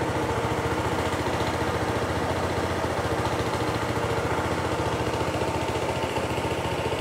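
A cold Honda Stylo 160 scooter engine idles steadily just after starting, a continuous close-up putter with a faintly raised idle and no voices over it.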